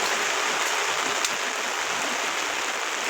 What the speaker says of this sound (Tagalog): Ayan, lumalakas ang ulan. Lumalakas ang ulan, guys.